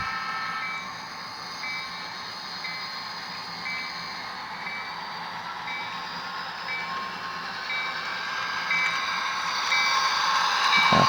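A model train pulls out of a yard with a steady motor whine and hum that slowly swells louder as it gathers speed, heard close up with no talking.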